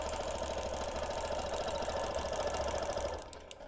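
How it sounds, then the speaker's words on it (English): A sewing machine stitching a quilt with ruler work, a steady close mechanical whir with a fine rapid needle rhythm, running continuously before easing off near the end. "stitching it down."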